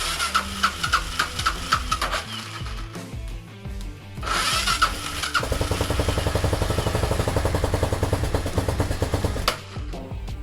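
A Suzuki DR 750 motorcycle engine sputters and struggles at first, then catches and settles into a loud, steady, rapid chugging idle that runs on to the end.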